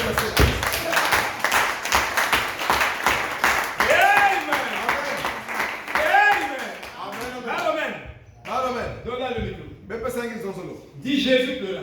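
A church congregation claps in a steady rhythm while voices sing and call out over it. The clapping is strongest in the first half and thins out as the voices carry on.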